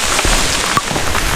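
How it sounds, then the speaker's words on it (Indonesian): Rain falling on a forest hiking trail on Mount Tampomas, heard as a steady broadband patter with a few sharper drip impacts, fairly loud and close throughout with no talk. "Dapat bonus hujan nih guys."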